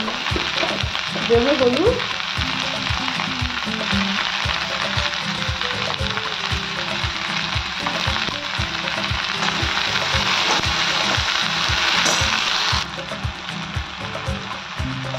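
Okra frying on high flame for a Bengali-style chatpata bhindi sabzi, a loud steady sizzle with stirring scrapes throughout, a voice speaking briefly over it.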